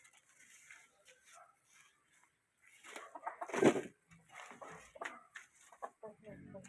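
Chickens cluck and squawk nearby in short bursts, with people talking over and between the bird calls.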